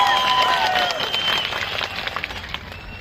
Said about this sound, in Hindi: जोर से ताली बजाइए किन साहब।